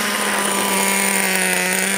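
A Traxxas T-Maxx 2.5 nitro RC truck engine buzzes at a loud, steady high-pitched drone, held near and unbroken for a couple of seconds.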